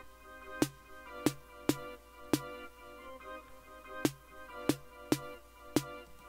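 Sharp electronic snare hits from the Kong drum module in Reason repeat in a steady programmed pattern, about nine crisp strikes with short decays over a faint sustained tone.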